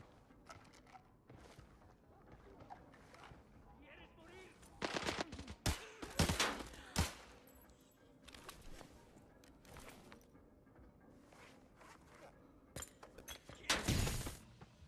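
Bursts of gunfire and sharp grenade blasts in the video game Arena Breakout, scattered rattling shots through the clip, with louder explosive cracks near the middle and a big blast toward the end, moderately distant with faint background game ambience.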